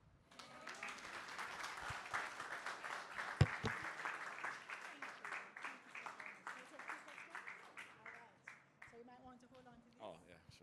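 An audience applauds after a conference presentation by a brand strategist and creative director, the clapping sustained and moderately loud for several seconds before thinning out, with a voice speaking near the end.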